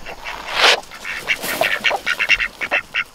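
Ducks quacking outdoors in a garden pen, starting with one loud burst and followed by a quick run of short, nasal quacks of mixed loudness, close by.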